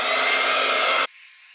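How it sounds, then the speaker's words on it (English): A heat gun blows a loud, steady airy roar while melting gold embossing powder on a Christmas card, then cuts off abruptly after about a second. "let's heat emboss this, and you're gonna watch this like come to life awesomely"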